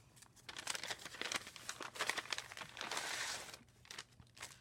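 A plastic bag stuffed with treats crinkles and crunches steadily as it is handled up close, a dense run of rustling bursts lasting several seconds with brief pauses, no talking over it.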